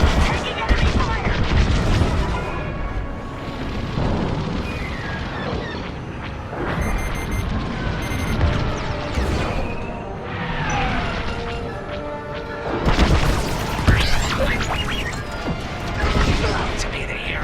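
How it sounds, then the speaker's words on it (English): Laser blasts and explosions from a Star Wars: Squadrons space battle, a continuous loud barrage of zaps, booms and crashes with spoken cockpit chatter over the top throughout. "Taking enemy fire."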